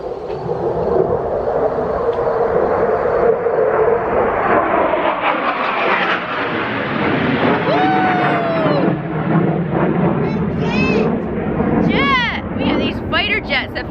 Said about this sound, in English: Jets that fly overhead, and they are so low and so loud